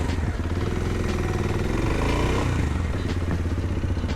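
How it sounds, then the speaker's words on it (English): A 2026 CF Moto Papio XO-1 Racer full-fairing motorcycle being ridden, its engine droning loud and continuous with a steady buzzing hum and slight rise in revs midway, under constant road and wind noise. "we are on the CF Moto Papio X01 Racer full fairing. New edition for 2026 and let's go for a ride."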